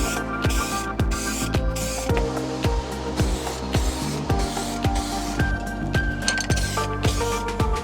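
A spray paint can rattles repeatedly as it is shaken, a steady series of sharp metallic clicks with hissy spray noise underneath, while painting mountain bike suspension fork lower legs hung on a frame.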